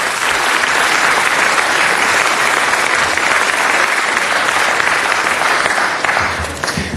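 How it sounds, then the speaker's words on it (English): Sustained, loud applause from an audience at a city council meeting fills the whole stretch, dense steady clapping that fades slightly at the very end. "Let's give them a round of applause for supporting us."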